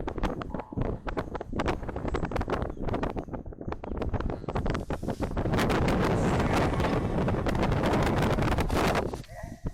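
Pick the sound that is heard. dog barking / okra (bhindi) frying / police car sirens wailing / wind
wind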